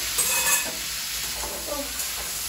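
Frying sizzle with scraping stirring sounds as young jackfruit fries in a pan, continuous and close, no talking.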